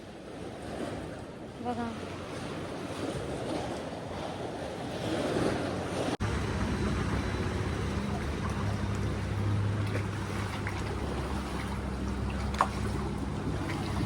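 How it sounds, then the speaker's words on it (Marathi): Strengthening sea waves wash and surge along a rough shoreline, a continuous roar of surf mixed with gusty wind buffeting the microphone, and a voice speaks briefly over it. "इथे लाटा वाढत चालल्या आहेत"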